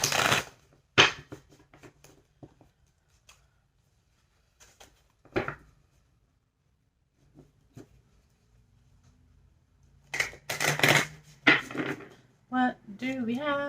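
Tarot cards shuffled by hand in short, crisp riffling bursts separated by quiet gaps, growing busier toward the end, where a voice is heard.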